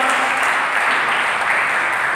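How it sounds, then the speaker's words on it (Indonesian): A church congregation applauds loudly and steadily, a dense wash of clapping that fills the whole moment without pause. "Berikan tepuk tangan kepada Tuhan."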